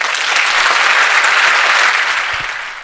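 An audience at a Bible seminar applauds the lecturer after a question-and-answer session: dense, steady clapping from many hands, loud and sustained, easing slightly toward the end.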